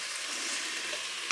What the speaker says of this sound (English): Sorry about the noise. I'm actually braising some beef